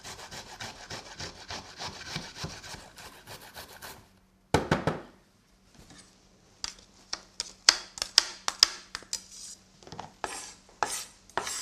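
Fresh ginger rubbed on a medium-sized grater for a Kerala spiced pumpkin soup: close, rhythmic rasping strokes, then a short pause before quicker, more irregular scraping.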